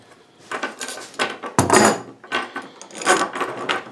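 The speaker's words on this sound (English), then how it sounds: "then take my channel locks and squeeze it back together." Channel lock pliers squeezing a metal hook closed: a series of short metallic clicks and scraping clanks over about four seconds, close and fairly loud, with one sharper clank near the middle.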